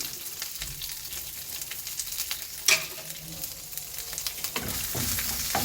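Curry leaves, black pepper and urad dal frying in hot oil for a kootu curry give a steady close sizzle, broken by one brief metallic clink partway through, with no voices.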